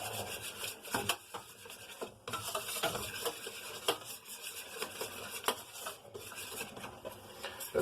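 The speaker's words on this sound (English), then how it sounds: "We are going to find us a mixer, whisk, and I'm just going to mix that up in my breading pan." Flour breading mixture whisked briskly in a breading pan, a busy close scraping and rattling of the whisk against the pan that keeps going throughout with short pauses.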